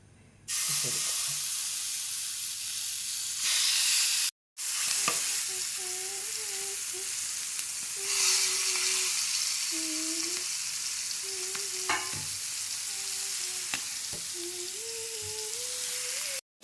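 Stuffed squid frying in hot coconut oil in a pan, a continuous loud sizzle and hiss with occasional scraping as pieces are turned, briefly cut off once then resuming steadily.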